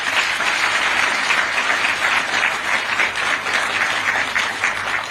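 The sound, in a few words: audience applause for the late President Kaunda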